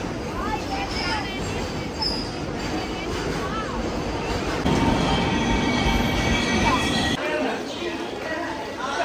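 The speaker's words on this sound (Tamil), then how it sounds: "goods train பாருயா" A goods train rolls past close by, oil wagons rumbling and clattering with squealing wheels, while people talk over the steady roar.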